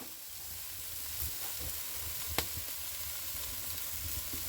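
Steak pieces laid on hot coals of an outdoor charcoal grill sizzle in a steady, close crackling hiss with a few sharper pops, no talking over it.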